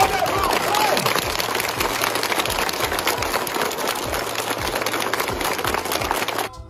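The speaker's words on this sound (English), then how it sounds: "let's give a round of applause" Audience applause at a school event in Mawryngkneng, steady dense clapping from a crowd that holds for several seconds, a brief voice at the start, then cuts off abruptly.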